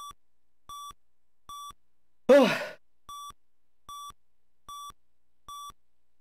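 Steady electronic beeps from Zelda II: The Adventure of Link on the NES repeat at an even rhythm, about eight short tones, with a person's drawn-out groaning sigh cutting in midway.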